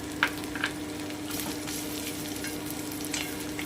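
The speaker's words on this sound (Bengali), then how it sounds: "এবারে আমি আদা আর কাঁচা লঙ্কাটা দিয়ে দিচ্ছি" Ginger and green chillies fry in a hot pan, a steady close sizzle with a few sharp crackles and faint stirring scrapes, with no voice over it.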